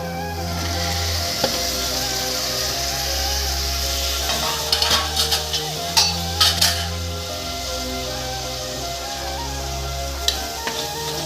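Mint and coriander leaves sautéing in a pan for mushroom biryani, a steady sizzle under a low hum, with a cluster of metallic spoon scrapes and clinks against the pan midway and another later.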